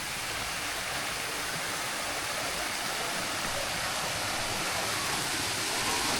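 Steady broadband rush of a waterfall at a tourist site near Luang Prabang, Laos, with only a small flow of water; a continuous, even wash of sound with no pauses and no voices.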